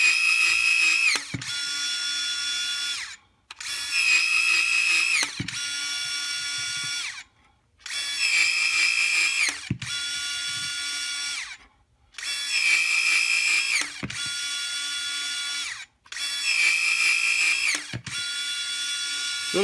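An 18V cordless PVC pipe cutter slices through 1.5 inch plastic pipe: six close, loud motorized whirring bursts with a steady whine, separated by short pauses, with no voices.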